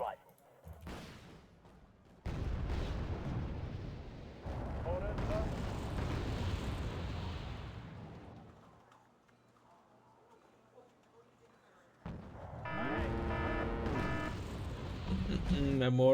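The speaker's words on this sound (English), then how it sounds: "A mortar." Mortar explosions in the armored vehicle game Chimera, several heavy booming blasts with rumbling tails separated by quieter gaps, under talk.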